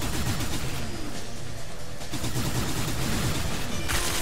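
Rapid, dense gunfire from the shooter game Hard Reset, loud sustained bursts of shots rattling continuously with no pause, close and alone without talk.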